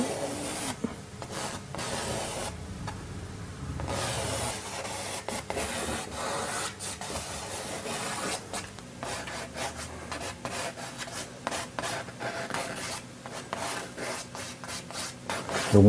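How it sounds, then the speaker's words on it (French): Charcoal scratches and rubs across a canvas while an initial sketch is drawn, a continuous close-up rasping with quick strokes and brief pauses over about sixteen seconds. "En premier, je vais dessiner l'esquisse au fusain sur la toile."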